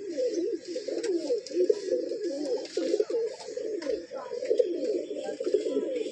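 Madrasi pigeons coo continuously at close range in a loft, a steady stream of soft throaty rolling calls with faint chirps behind, no clear talking.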